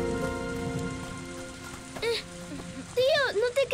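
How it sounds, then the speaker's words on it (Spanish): Rain falling steadily as broadband patter through the clip, with loud shouting voices breaking in over it near the end. "¡Está lloviendo!"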